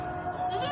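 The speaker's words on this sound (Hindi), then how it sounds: "मेरे पास एक बकरी है" A goat at a livestock market gives one sustained, wavering bleat, close and fairly loud, lasting under a second.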